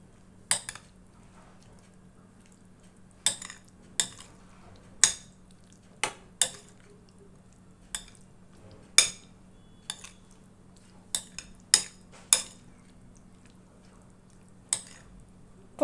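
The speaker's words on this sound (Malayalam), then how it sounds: "ഇനി നമുക്ക് നന്നായിട്ട് ഇതുപോലെ ഒന്ന് മിക്സ് ചെയ്തെടുക്കാം" A spoon mixing a vegetable salad with yogurt in a bowl: a dozen or so sharp, close clinks and scrapes at an irregular pace over a low, steady hum, with no talking.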